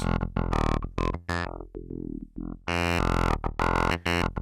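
Harsh, buzzy tones from a Make Noise Soundhack Spectraphon spectral oscillator synthesizer jump rapidly between harmonic timbres and pitches in choppy bursts, some bright and distorted, others dull and low; no talking.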